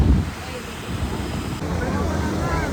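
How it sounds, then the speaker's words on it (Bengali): Wind buffets and rumbles across the microphone beside the sea at Puri at night, a steady low roar with a stronger gust at the start. "হাওয়ার আওয়াজে কথা কেটে যাচ্ছে হয়তো।"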